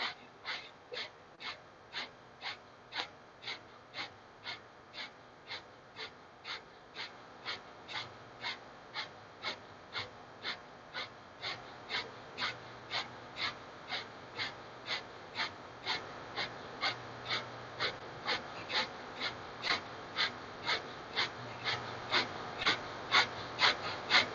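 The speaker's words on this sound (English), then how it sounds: "So taking a nice deep breath in. Exhale through the nose. Inhale deeply." Rapid, rhythmic forced breathing through the nose during a yoga and meditation session, a long run of sharp, evenly spaced exhales that grow louder and slightly faster over time, close and with no talking.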